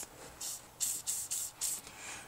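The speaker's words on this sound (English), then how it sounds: "take our liquid wrench and spray it right on top like that" Several short bursts of Liquid Wrench penetrating oil sprayed onto a nut on a BMW E36's rear shock mount, hissing in quick succession close to the microphone, with brief pauses between them and no talking.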